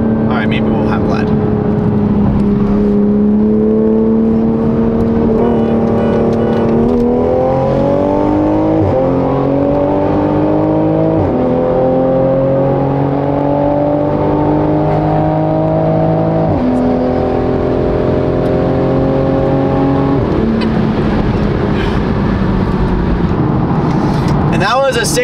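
A tuned Toyota Supra accelerates hard from 60 to 130, its engine climbing steadily in pitch through several gear changes, loud and close, with a sharp drop and rise at each shift.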